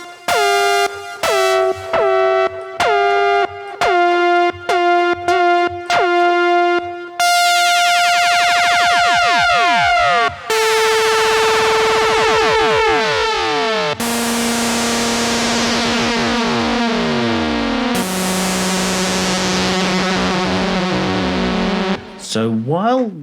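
A TAL-J-8 software emulation of the Jupiter 8 synth plays with oscillator cross modulation, starting with short repeated stabs and then moving to long sustained tones with sweeping, metallic harmonics. It is loud and heard alone, with no talking.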